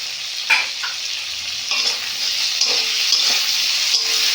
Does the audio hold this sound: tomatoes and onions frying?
yes